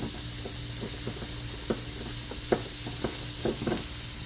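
Chopped onion frying in a touch of olive oil in a pan, a steady close sizzle with a few soft stirring clicks and taps scattered over it, no voices.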